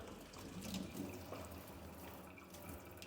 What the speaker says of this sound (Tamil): இதில் ஒரு ஃப்ளோவில் தண்ணி வரும்.